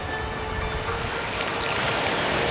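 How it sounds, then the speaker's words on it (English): Ocean waves wash steadily onto the shore of a Cambodian island, a continuous broadband rushing with gentle surges and no voices. "The sound of rushing waves"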